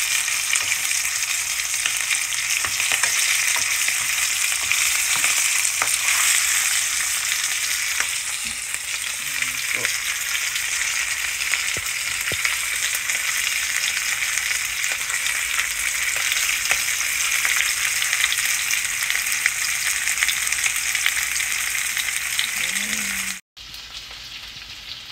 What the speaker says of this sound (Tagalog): nagigisa ako ng bawang, sibuyas, kasaki